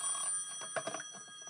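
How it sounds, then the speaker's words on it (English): A telephone bell rings with a steady high metallic tone in a radio-style drama, followed by muffled rustling and knocks of movement, fairly quiet and close. "The phone. Must answer the phone."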